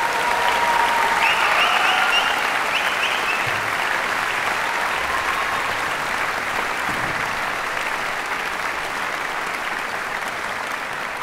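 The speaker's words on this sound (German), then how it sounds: "alle die Helferinnen und Helfer haben mal einen grossen Applaus verdient" Sustained applause from a concert audience at an organ concert in the KKL Luzern, dense and steady across the whole stretch and easing slightly toward the end, with no voices on top.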